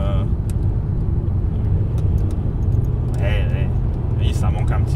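A car's engine drones with a steady, loud low-frequency rumble while driving, joined by road noise and occasional light rattles, with people talking over it inside the cabin.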